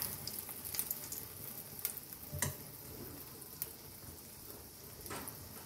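Batter frying in a pan, a quiet, continuous sizzle close by, broken by a few sharp ticks and clicks of the utensil, with no speech.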